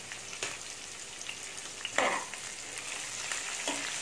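Roasted gram, cashews and coconut being sautéed together in a pan for raw jackfruit kurma, with a low sizzle under intermittent scraping spoon strokes, one louder stir standing out, close and with no voices.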